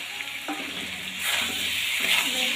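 Eggs frying in curry in a pan, a steady loud sizzle throughout that swells briefly as they are stirred, with faint clinks of a utensil; no voices.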